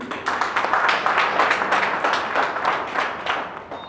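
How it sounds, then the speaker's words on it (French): At an August 2023 senatorial election announcement in Ouesso, a crowd gives sustained applause, a dense, even wash of hand claps that gradually thins toward the end. "Et je vous applaudis très fort."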